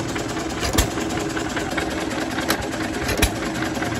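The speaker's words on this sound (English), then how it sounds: "it definitely is a set of John Deere engines there on the two ice cream machines" An old John Deere make-and-break engine powers an ice cream machine outdoors at a festival, chugging steadily at an idle with a few sharper periodic pops standing out from a dense, constant mechanical drone.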